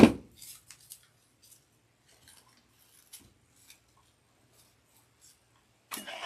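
Scissors trimming material for a Dollar Tree DIY coffee pod holder, a few quiet, scattered snips and clicks close by, with a louder handling rustle at the start and end.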